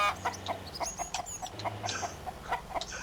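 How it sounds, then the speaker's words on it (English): A flock of chickens in the survival game Mist Survival cluck in a quick, repeating stream of short clucks, fairly loud and close, with occasional higher squawks layered over a low ambient background. "I love when the chickens are on the front, but man, they really got to be able to turn down the volume on them."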